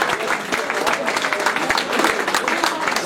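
Crowd at a trail race applauding the organizers, brisk scattered clapping from a gathered audience outdoors, heard under an announcer's voice speaking French over it.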